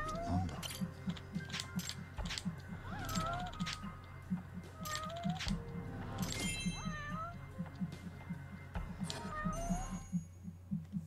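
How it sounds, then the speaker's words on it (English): A cat in the video game Judgment meows repeatedly, with several rising and falling cries over a rhythmic low pulsing background, loud and close throughout. "Stop meowing!"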